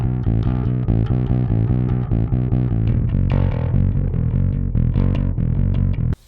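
A heavily distorted bass guitar, doubled with extra distortion, plays a punchy, repeating riff of steady notes, loud and gritty throughout, cutting off abruptly at the end.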